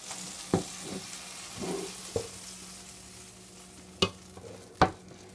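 Butter in a frying pan for gluten-free pancakes gives a soft, low sizzle broken by several sharp pops and clatters, a few close together near the end, with no voices.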